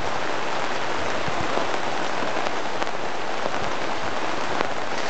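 Steady rain pours down, a dense continuous hiss of drops pattering on a surface, with occasional sharper drips standing out.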